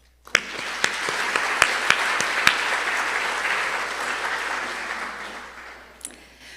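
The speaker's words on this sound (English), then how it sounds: "Their efforts deserve our applause as well." Banquet audience applauding together in a hall, a sustained wash of clapping lasting several seconds with a few sharp near claps at the start, fading toward the end.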